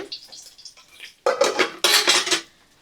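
Fried katla fish pieces are lifted from a pan into a bowl one by one, with utensils scraping and clattering loudly in two busy bursts after a quieter start.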